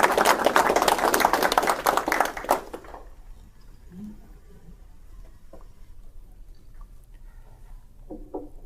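Audience applause welcoming a speaker at a pro-life talk, a dense burst of clapping that fills the first few seconds and then stops abruptly, leaving a quiet room with faint scattered noises.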